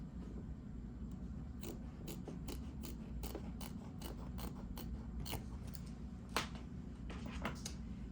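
Scissors trimming away fabric while making an embroidery block, a series of quiet crisp snips at an irregular, fairly quick rhythm over a low steady background hum.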